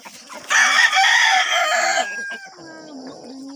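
Native bakulod rooster crowing close and loud on a Mindanao hillside farm, one long cock-a-doodle-doo followed by softer clucking, with no one talking.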